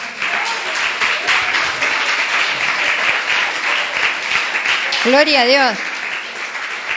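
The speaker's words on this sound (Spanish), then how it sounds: "¿Cuántos le dan un aplauso al Señor?" A church congregation applauds steadily during a sermon on ministry dedication, a continuous wash of clapping while a voice speaks over it and briefly rises into a sung or drawn-out phrase near the end.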